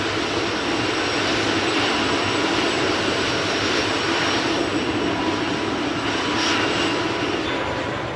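A helicopter's engines wind up before takeoff, a loud, steady turbine whine and roar that holds close and continuous with no talk.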